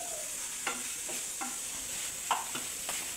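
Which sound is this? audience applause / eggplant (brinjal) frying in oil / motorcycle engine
eggplant (brinjal) frying in oil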